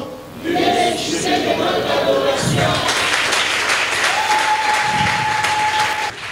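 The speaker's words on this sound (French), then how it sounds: "Je vais entendre les acclamations." Church congregation at a French-language service applauding and acclaiming, sustained loud clapping and shouting throughout with voices calling out over it.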